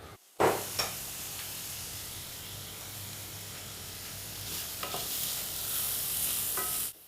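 Onion sautéing in a pan for asparagus risotto, a steady close sizzle with a few scraping stirs, starting abruptly and holding at an even level before cutting off.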